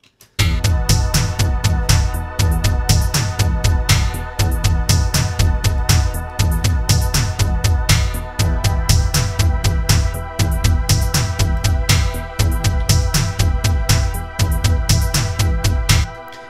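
Three layered synthesizer sounds, two of them from Omnisphere, play together over drums in a loud, steady rhythmic loop with regularly repeating pulses and sustained tones.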